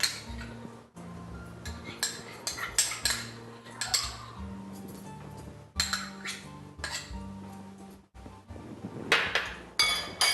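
Sugar and butter are mixed in a bowl for a sweet potato cake, with a utensil repeatedly clinking and scraping against the bowl in uneven bursts over a low steady hum.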